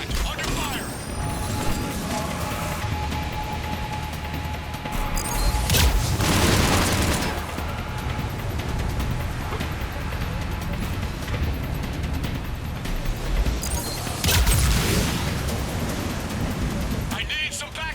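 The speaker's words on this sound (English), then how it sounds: "Commander, I've got enemy contact! Under fire!" Bursts of gunfire and booming impacts in the video game Mass Effect 3, two heavy volleys standing out over a constant noisy battle background, with a voice calling out over it.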